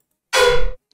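Synthesized bass sample with no effects, a single short bright buzzy note lasting under half a second, loud and close, cutting off abruptly.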